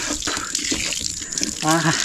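Water gushes from a hand-operated borewell pump running without a motor or electricity, a steady splashing flow that briefly swells louder near the end.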